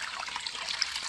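Water sloshing as a measuring cup is rinsed in a bucket holding a little water and paraffin oil, a soft, close, continuous trickling and splashing for about a second.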